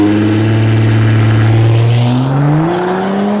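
A turbocharged car engine with its catalytic converter replaced by a straight pipe revs loudly and steadily, its raspy drone rising in pitch toward the end, close and with no voices.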